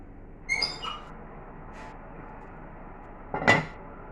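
A lidded metal baking tin holding sandwich loaf dough goes into an oven, making two short clattering knocks, one near the start and one near the end, with quiet background in between.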